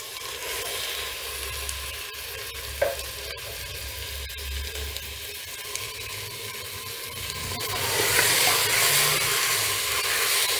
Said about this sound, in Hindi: इसमें 1 table spoon ginger garlic paste add करूंगी और इसको थोड़ा फ्राई कर लूंगी मैं